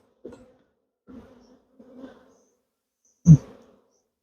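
Short bursts of honey bee buzzing pass close by at an apiary hive, several brief droning buzzes separated by silence, with one louder burst near the end.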